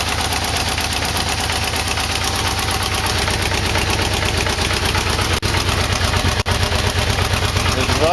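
A Yamaha V-Max motorcycle engine idling steadily with a rough, pulsing exhaust note, close and loud, with a couple of brief dropouts near the end.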